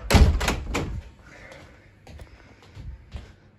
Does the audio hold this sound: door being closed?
yes